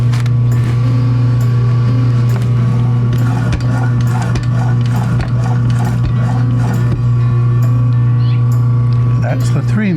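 A BESWOOD 10-inch electric meat slicer with a chromium-plated carbon steel blade hums steadily and loudly while cutting turkey, with a repeating ratcheting, mechanical whir running through the pass.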